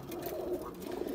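Pigeons coo softly and continuously through a short outdoor stretch at a bird keeper's loft area, a low steady murmur with no talk over it.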